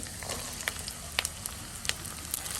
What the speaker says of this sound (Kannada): 2 ನಿಮಿಷ ಇದನ್ನು ಫ್ರೈ ಮಾಡಿದ್ರೆ ಆಯಿತು